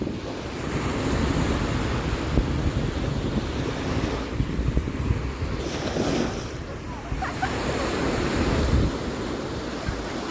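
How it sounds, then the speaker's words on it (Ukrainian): Sea waves wash steadily onto a wide beach in Bulgaria, a continuous rushing surf mixed with heavy wind buffeting the microphone, with no voices. "Ой-ой-ой, ой морюшко."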